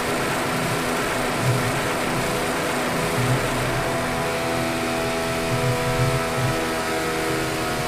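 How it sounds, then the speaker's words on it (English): A race car engine in Project CARS 2 drones steadily at a constant pitch with slight waves in intensity, loud and continuous with no talking. "We'll just let you listen to the sounds, I guess, of the car."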